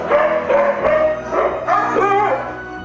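A white Rajapalayam dog yips and barks in a quick run of close, loud, high-pitched calls, with a whining, whimpering edge between them.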